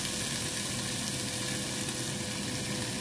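Cherry tomatoes tipped into a hot pan for Italian meatballs with caponata vegetables, giving a steady, close, bright sizzle and fry hiss that holds evenly throughout with no talk.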